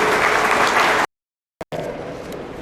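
An audience at a meeting claps loudly for a speaker, a dense burst of applause that stops abruptly and then resumes more quietly.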